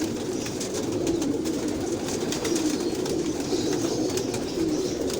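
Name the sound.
Rampuri pigeon cooing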